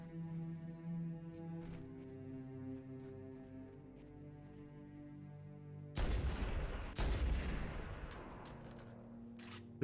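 Video game gunfire aimed at the player: sharp shots crack out intermittently over a humming tonal game soundtrack, with a loud cluster of heavy bursts near the end.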